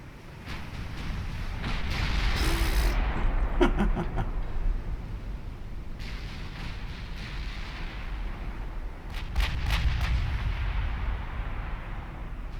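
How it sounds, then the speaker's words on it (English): Heavy naval guns boom in a warship battle in the video game Ultimate Admiral Dreadnoughts, with rolling salvos and long rumbling reports over a constant low din, loud and repeated across the clip. "I think that's all the guns firing now."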